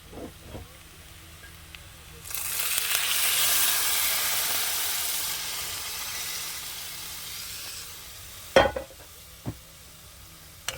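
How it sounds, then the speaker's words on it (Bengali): Hot water poured into a pan of yam curry sets off a loud, close sizzling hiss that swells for several seconds and then fades. A few sharp knocks from utensils follow afterwards. "তো গরম জলটা এখন দেবো আমি"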